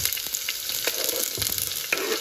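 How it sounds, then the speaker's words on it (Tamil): Onions frying in hot oil with popped mustard seeds in a clay pot give off a continuous close sizzle with light crackles and occasional stirring scrapes. "இப்போ வெங்காயத்தை போட்டுடலாம்."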